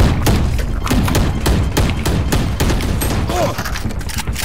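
A grenade detonates amid rapid gunfire in Valorant, heavy thumps and sharp shots crackling in quick bursts throughout, loud and close, with a player's voice under the fighting.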